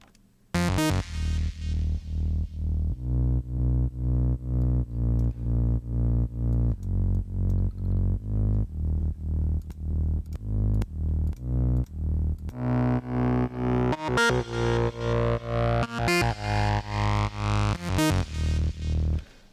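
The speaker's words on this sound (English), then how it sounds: "when it's playing the high notes, you can hear that the delay and reverb are doing their thing" Punchy, distorted techno synth notes pulse in a steady rhythm, with brighter high notes later trailing off into echoing delay and reverb.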